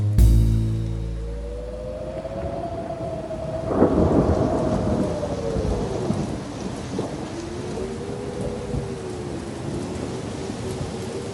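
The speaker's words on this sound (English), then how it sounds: "It was a dark and rainy night." Rolling thunder booms over steady heavy rain in a stormy night soundscape for an old-time horror radio drama, a sharp crack near the four-second mark amid continuous downpour and a low sustained eerie tone.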